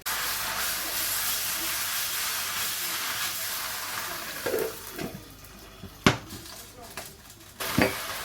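Portuguese pork chops with soy sauce steam and sizzle under a lid in a pan, a steady soft hiss with a few brief louder pops and clinks.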